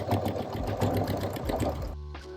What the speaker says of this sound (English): let's go ahead and sew this part back down